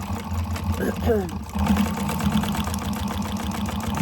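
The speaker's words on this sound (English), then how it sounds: "you're going to stitch this at the seam allowance that she gives you in the pattern. Make sure you back stitch." Sewing machine stitching a fabric seam for a candy bag, its motor chattering in a steady mechanical run with a short pause partway, while a person talks over it.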